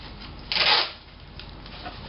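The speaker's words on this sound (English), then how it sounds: "And you hold this, I'll tape it." Adhesive tape is pulled and pressed on to hold the foam parts of a model plane build together, heard as one brief rasping burst over faint background noise.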